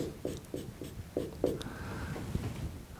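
Pen strokes on a board as a series-circuit voltage calculation is written out: a steady run of short, close scratching taps in an even rhythm, alone with no talk.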